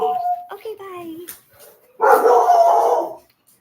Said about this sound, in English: she hears a dog barking